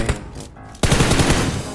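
Rapid bursts of gunfire crackle in PUBG Mobile, a quieter stretch giving way to sustained loud automatic shooting.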